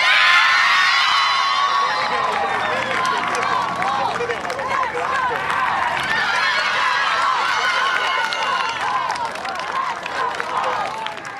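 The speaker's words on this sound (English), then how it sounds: "Give a big cheer." Spectators at the Henley Royal Regatta finals cheering and shouting together, a loud, sustained roar of many voices with whoops and yells mixed through it.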